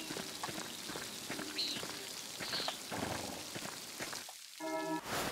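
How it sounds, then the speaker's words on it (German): Steady rain falls throughout in the medieval-set video game Pentiment, a dense even patter with a few faint tones on top and a brief lull near the end. "Jetzt regnet es schon."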